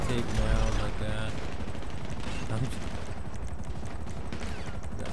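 Rifle gunfire in GTA V Online, bursts of shots crackling through a busy game mix, loudest near the start and then continuing as repeated reports under a dense background of game sound.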